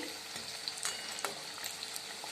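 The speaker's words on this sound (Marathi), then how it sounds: "आपल्याला हे मंद आचेवर तळून घ्यायचे आहेत" Sabudana vada frying on a low flame gives off a steady, gentle sizzle that crackles softly and evenly throughout, with small pops rising now and then.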